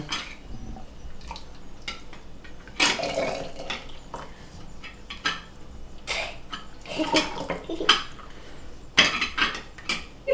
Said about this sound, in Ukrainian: Ось, заливаю сік в банку.